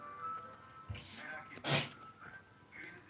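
A single quick sneeze breaks through faint background sound, with a few soft bumps and murmurs around it, close by.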